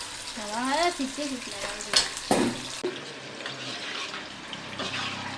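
Chicken pieces sizzle steadily as they fry crisp in a pan, with a few sharp scraping stirs near the start and a brief voice in the background.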